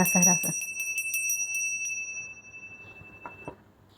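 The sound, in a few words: bells ringing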